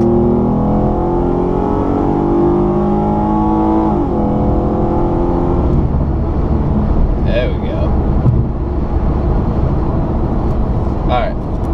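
A 2016 Hyundai Genesis Coupe Ultimate sports car accelerating hard, engine note climbing through a gear change and pulling strongly again, heard loud from inside the cabin with a brief voice near the end.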